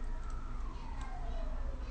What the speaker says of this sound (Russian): Скорая помощь, наверное, где-то там едет.